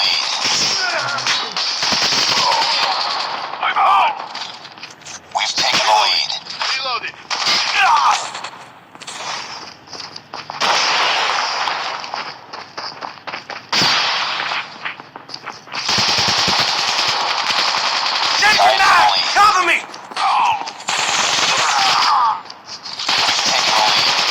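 Rapid automatic gunfire in Call of Duty Mobile, near and loud, running in dense bursts with short gaps throughout, while a player talks over it.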